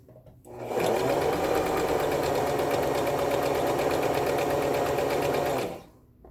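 A Brother XL-2600i sewing machine running a straight stitch, its needle hammering in a rapid, steady mechanical rhythm that starts abruptly, holds at close range for about five seconds, then stops.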